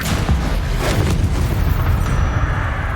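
Incendio fire spell cast in Hogwarts Legacy, a loud roaring burst of flame that flares sharply and then sustains as a dense, crackling whoosh for a few seconds, close and full.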